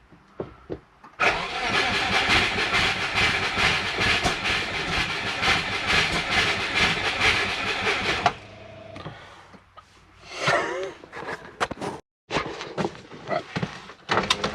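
A Subaru engine fitted with a homemade turbo exhaust manifold cranks and fires, running loud and rough for several seconds before cutting out, followed by brief clatter and a short restart attempt.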